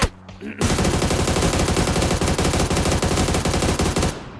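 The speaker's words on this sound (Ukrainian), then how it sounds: "А Неті випускає всю обійму. Не жаліє куль." A gun in PUBG on the Erangel map empties a full magazine in one long rapid-fire burst, loud and close, with sharp shots running continuously for several seconds after a brief quieter lead-in.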